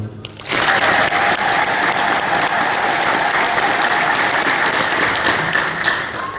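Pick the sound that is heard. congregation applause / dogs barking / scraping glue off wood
congregation applause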